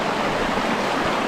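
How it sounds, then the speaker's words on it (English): The Ouachita River flowing at a hiking trail crossing in the rain: a steady, close, broadband rush of moving water, loud and unbroken throughout, with no talking. "I have to cross Ouachita River."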